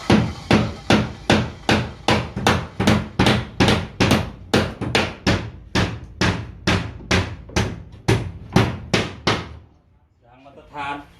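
Hammer strikes pounding nails into wood during work on a two-room house renovation, a steady run of about twenty sharp, evenly spaced loud blows, close by, ending with a brief pause and faint voice.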